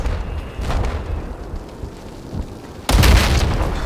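Tank explosion in Battlefield 4, a sudden heavy boom near the end breaking through an earlier stretch of muffled rumbling and scattered gunfire, close and loud with a rough tail; no speech during the blast.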